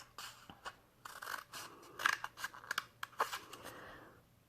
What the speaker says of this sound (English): You can snip it down a little further if you'd like.